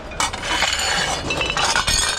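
Pieces of a broken glass pitcher clink and chink against each other in a close, continuous rattle with several sharper knocks, heard alone without talk.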